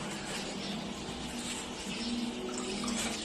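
Water pours into a rice pot as the last of it goes in for cooking, a steady broadband splash and trickle running continuously at low level with no talk over it.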